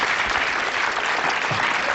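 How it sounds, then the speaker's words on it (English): Studio audience at a UK TV game show breaks into loud, sustained applause, a dense wash of clapping that holds steady for about two seconds with no pause. "Alan, Sarah, a round of applause, please, for Alan and Sarah"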